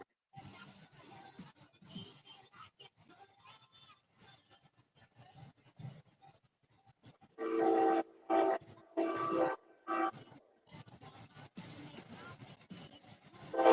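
A train passes nearby, rumbling faintly before its horn sounds in several loud sustained blasts, with brief gaps between them; the horn fades after one last short burst.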